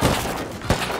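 Gunfire in the survival game Rust, a brief, loud, close volley with a sharp shot standing out near the end over a dense rumbling backdrop.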